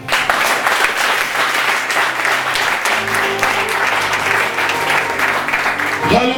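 A church congregation at a Sunday service claps loudly and continuously, a dense sustained wave of applause with voices mixed in.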